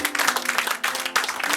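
An audience at an evening show claps for a person who has just been introduced, a brief and fairly loud wash of applause that dips for a moment and then swells again.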